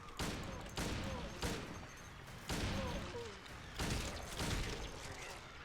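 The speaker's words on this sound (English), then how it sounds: "I'm shooting everybody." Rapid gunfire from Silent Hill 2 Enhanced Edition, loud dense volleys of shots in several bursts with brief gaps between them, and no talk over the shooting.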